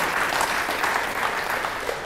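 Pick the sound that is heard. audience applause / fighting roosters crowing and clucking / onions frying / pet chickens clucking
audience applause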